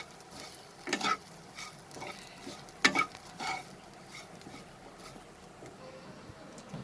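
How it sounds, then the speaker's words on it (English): Sugar and coconut being dry-roasted together in a pan over a low flame, with a soft sizzle and scraping stirs throughout and a couple of louder scrapes, quiet and close. "now over a low flame, we are going to roast all three of this together"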